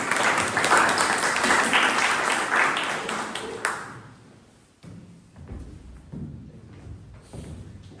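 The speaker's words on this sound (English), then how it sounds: "Big round of applause, please." Applause from the audience at a Toastmasters club meeting: steady clapping fills the room for the first few seconds, then tapers off into quieter room noise with a few thumps.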